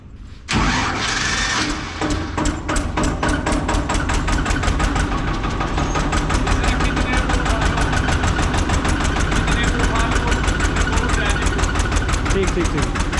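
Eicher 241 tractor engine cranking and firing up, then settling into a loud, rapid, knocking diesel idle with an even pulsing rhythm close by, while people talk over it.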